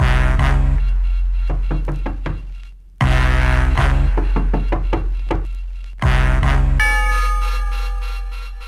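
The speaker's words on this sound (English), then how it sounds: "blaring horns and rhythmic door knocking come into the song" A hip-hop song plays with loud, sharp knocks in a door-knocking rhythm, separated by brief gaps, and a blaring horn line enters near the end over steady bass.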